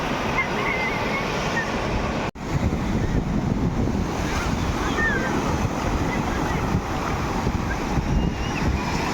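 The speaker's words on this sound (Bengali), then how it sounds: "আবার একটা বড় ঢেউ আসছে" Ocean waves surge and break continuously on Marina Beach in Chennai, a loud, steady wash of surf with wind buffeting the microphone and a brief dropout near the start.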